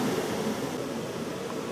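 Steady, broadband rushing of small waterfalls at an outdoor landscape spot, an even wash of falling water with no voices.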